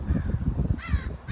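A crow caws loudly close by, a single harsh drawn-out call rising over low background rumble.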